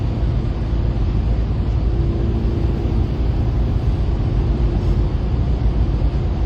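Car driving on an empty road toward Paris, heard from inside as a steady low road rumble and engine drone, with no talking.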